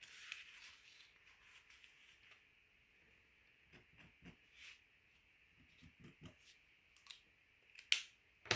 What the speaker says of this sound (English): what I'm going to do is actually little mini snips, as well as little snips all around